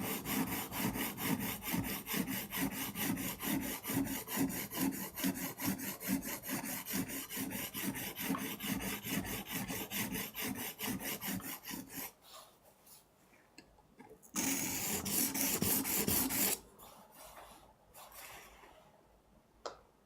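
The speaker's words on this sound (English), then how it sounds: "When you've got tiny blades, that's what happens with a good, strong sharpening stone." A small blade being sharpened on a 400 grit sharpening stone, with steady rhythmic rasping strokes for about twelve seconds, then quieter pauses and a brief louder scrape.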